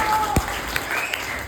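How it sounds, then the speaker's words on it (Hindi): Audience clapping for children at a Jain religious discourse, a brief burst of dense, steady applause filling the hall alongside faint tonal sounds. "एक बार बच्चों के लिए तालियां बजा दो सही।"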